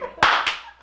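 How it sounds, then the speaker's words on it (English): Two sharp hand claps, close and loud, the second a quarter second after the first, each with a brief ringing tail. "Let's clap."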